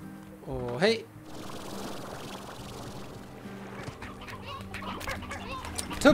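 A rooster in the video game Slime Rancher lets out a short, squawking cluck near the start, followed by busy, steady game background noise.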